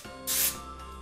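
A short burst of cooking spray hisses into a large flat square cake pan, one quick pressurized spritz lasting about a quarter second, close and clear.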